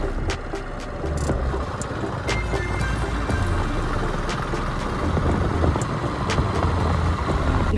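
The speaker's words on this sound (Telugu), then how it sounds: "బస్సు వెళ్తుంది పైన" Heavy bus passing on a hill road above near Kondaveedu Fort, a continuous low engine rumble with road noise that swells and holds steady throughout, fairly close and loud, with no one talking.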